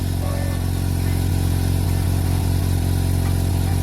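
An H&L N1-1/4HP oilless air compressor with a 30-litre tank runs at a steady, fairly loud level, giving a constant low motor hum with a fast pulsing drone and no talk.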